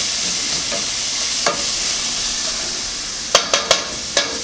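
Garlic fries in a pan for dolma with a bright, steady sizzle, broken near the end by a few sharp clicks and scrapes of stirring.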